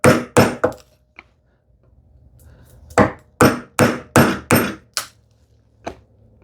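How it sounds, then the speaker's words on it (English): A hand chisel is struck with a mallet into wood during hand-tool woodworking on a shoe tidy. About ten sharp, close knocks land in uneven bursts, two quick ones, a pause, then a rapid series of five and a final lighter tap. "I will go one more chop, and then I can go back to that point to establish the depth a little bit more."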